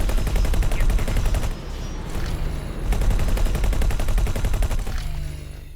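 Rapid, continuous bursts of spaceship guns firing in the space game X4: Foundations, loud and sustained with a brief lull partway through.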